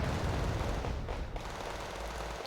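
Gunfire and explosions from a Wargame Red Dragon battle, a dense continuous rumble of distant shooting and artillery with no voices over it.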